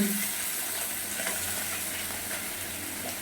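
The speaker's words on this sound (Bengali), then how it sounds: "এই যে ভাজা চলছে" Cheap fish frying in a pan, a steady, even sizzle of hot oil that continues without a break, close and fairly quiet with no voices.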